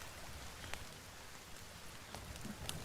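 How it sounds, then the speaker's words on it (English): Steady, soft rainfall from The Forest video game patters continuously at low volume, with occasional faint drip-like ticks and no voices. "The sound of the rain, nice warm fire, cannibals on the prowl,"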